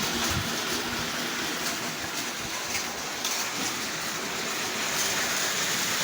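Electric model train pulling five cars around a track, a steady rolling rush and hiss of wheels with soft clicking, fairly quiet and continuous.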